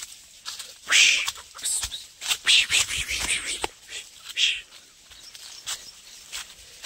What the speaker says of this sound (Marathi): कोंबडी पळाली.